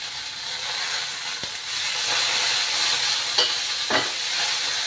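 Coriander leaves and peanuts frying in a pan for a tomato chutney, giving a steady loud hiss and sizzle with a few brief scraping stir strokes, close up and without talk.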